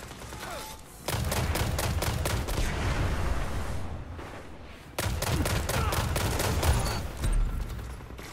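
Rapid automatic guns firing in the video game Rift, two long bursts of close, steady shots separated by a brief pause, with thuds mixed in.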